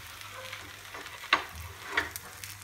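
An uttapam fries in oil on a pan with a steady, close sizzle and a couple of sharp crackles, and no voices.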